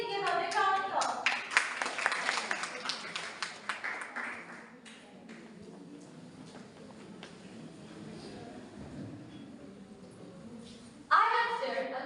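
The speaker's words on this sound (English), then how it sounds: "Please give a big round of applause." Applause from the audience at an inter-school English elocution competition: dense clapping for the first few seconds, then thinning out into quiet room murmur before a louder sound near the end.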